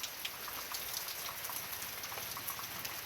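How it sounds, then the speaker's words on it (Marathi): Light drizzle falls in Konkan after heavy rain, a faint, even patter close by under the eaves of a house, with no voices. "आता परत तो बारीक बारीक होत चालला आहे."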